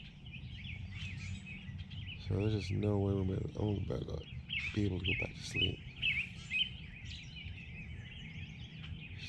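Birds chirp and tweet continuously around a campsite at about 6:30 in the morning, their high calls steady in the background while someone talks close by.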